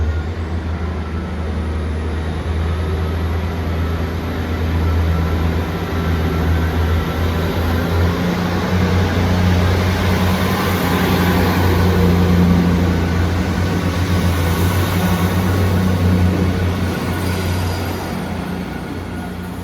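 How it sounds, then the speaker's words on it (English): A Great Western Railway passenger train pulls out of a station, a loud, steady low rumble and drone with a rising whine that swells midway and holds through to the end. "departing out now is the 2039 Great Western Railway service from Portsmouth Harbour to Cardiff Central."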